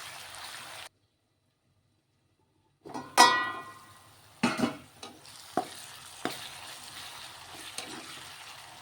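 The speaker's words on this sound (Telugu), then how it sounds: "టమాటా కూడా బాగా ఫ్రై అయిపోతే బాగుంటుంది అన్నమాట" Chopped tomato pieces sizzle in a hot pan for a fish-curry-style amaranth stem dish. A soft frying hiss is cut by a brief silence, then returns with sharp scraping stirs and crackles.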